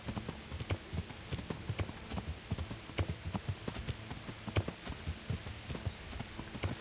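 Hooves clop in a fast, steady galloping rhythm as a horse runs during mounted archery in the medieval video game Kingdom Come: Deliverance, with faint background ambience and no talk.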